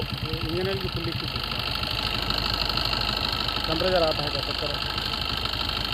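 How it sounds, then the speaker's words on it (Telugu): A Swift Dzire diesel car engine idles with a steady, even rumble and faint knocking pulses, with muffled voices in the background. "ఇంజన్ బీడింగ్ కూడా జాగ్రత్తగా చూడండి ఎంత స్మూత్గా ఉందో"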